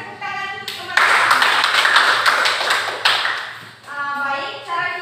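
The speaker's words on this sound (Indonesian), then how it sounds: "Berikan tepuk tangan untuk teman-teman." Classmates in a school classroom break into a burst of loud, close applause lasting a couple of seconds, with a voice speaking just before and after.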